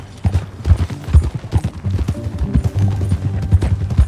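Horse hooves clip-clop steadily in Red Dead Redemption 2 as a rider moves along, a rhythmic trotting patter with low thuds that carries throughout.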